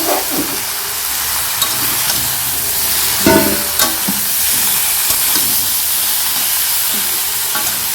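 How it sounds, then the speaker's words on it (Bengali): Sugar being stirred into sour mango in a wok, giving a continuous loud hissing sizzle with occasional scraping and clatter of the stirring utensil, no talking. "এই চিনি দিয়ে দিয়েছি এবার চিনিটা এখন ভালো করে মিশিয়ে নিতে হবে"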